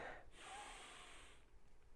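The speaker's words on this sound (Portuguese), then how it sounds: "para respirar, você tem que inspirar." A person draws one deep, breathy inhale through the nose and mouth during a guided breathing exercise, close and quiet, a rushing airy sound that swells and then fades without any talking.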